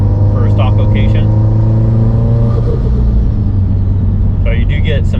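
Subaru STI with an FP Green turbo in the stock location and a 50mm blow-off valve, its engine droning steadily and loudly with brief turbo whooshes near the start and end, with a voice underneath.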